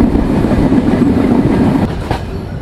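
The Simanta Express intercity train rolls along at night, heard from aboard as a loud, steady rumble with rhythmic clickety-clack of wheels on rail joints, easing slightly toward the end.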